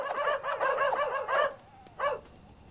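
A dog in a game barks and yelps in a quick run of short, bright, close calls, then falls quiet before one last bark.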